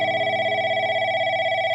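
A steady electronic telephone ringback tone plays while an international call to a mother's mobile goes through. It sounds as one continuous, loud, even tone that cuts off near the end.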